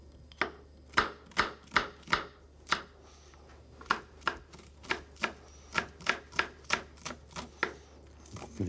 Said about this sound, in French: l'échalote, que je vais couper devant vous